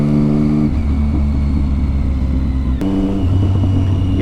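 A Triumph motorcycle engine on its first ride after a service, a loud, close steady rumble with shifting engine tones and a brief change midway as the bike is ridden.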